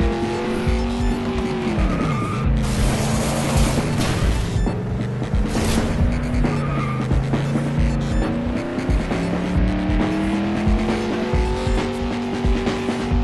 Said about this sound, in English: The engine sound effects in this game weren't too bad.